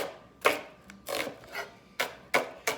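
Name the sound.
knife cutting onions on a wooden board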